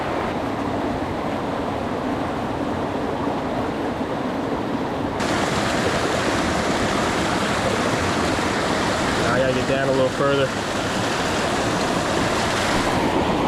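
Rushing water from a waterfall on the Rapidan River, a steady broadband roar that grows louder partway through, with someone speaking over it.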